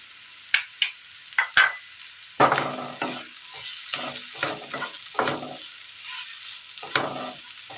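Shredded cabbage with salt being stirred and fried in a hot pan, with a string of sharp utensil scrapes and clatters over a steady sizzle, loud and close, with no talking.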